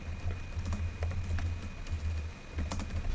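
Rapid bursts of typing on a computer keyboard, a close, steady patter of keystrokes with brief pauses between runs while a message is entered in Roblox Studio.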